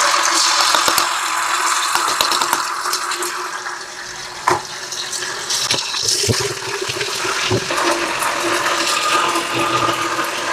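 Chili and onion hit hot oil in a home kitchen pan, giving a loud, busy sizzle and crackle with scattered pops and clatter throughout, no talking.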